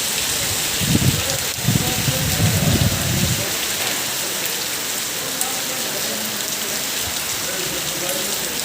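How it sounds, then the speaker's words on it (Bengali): Steady monsoon rain falls in a continuous dense hiss over a flooded truck terminal, with a brief low murmur of voices early on before the rain carries on alone. "বৃষ্টি আর বৃষ্টি কি বৃষ্টি"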